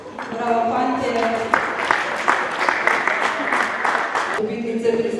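Audience applauding award winners at a Slovenian table tennis ceremony, steady dense clapping that swells in the middle for several seconds and then eases off, with an announcer's voice heard around it.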